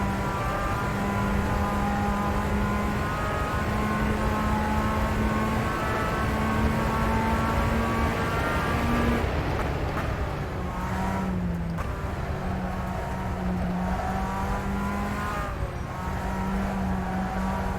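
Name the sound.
racing car engines in video game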